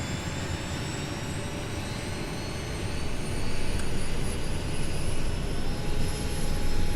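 A Kodiak aircraft's turbine engine at low idle after starting, a loud continuous whine and rushing roar with steady high tones that swells slightly louder about halfway through and stays constant to the end.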